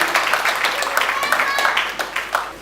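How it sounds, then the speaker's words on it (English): A crowd claps in applause at a book presentation event, a moderate patter of hand claps under a presenter's voice, brief and fading toward the end. "let's give 2Baba a round of applause"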